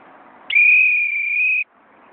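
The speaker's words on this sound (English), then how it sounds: "I whistle for him to come back before he gets to the road." A single loud, steady whistle blast sounds outdoors to call a dog back, holding one pitch for about a second before cutting off, with faint background noise around it.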